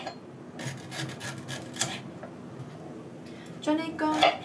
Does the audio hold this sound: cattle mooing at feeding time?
no